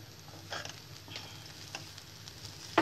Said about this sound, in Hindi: अब इसमें अच्छी तरह से हिला लूंगी।